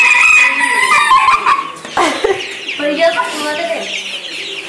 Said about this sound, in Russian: Петушок поет, да?